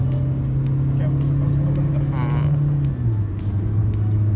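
Hyundai Venue diesel automatic accelerating on a road, a steady engine drone with a pitch that shifts partway through, heard from inside the car under someone talking.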